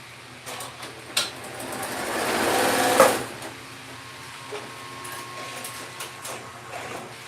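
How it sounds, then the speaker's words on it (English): A sewing machine sews quilt pieces in a single sustained whirring run that builds and then cuts off sharply, followed by quieter handling sounds. "I'm gonna sew this."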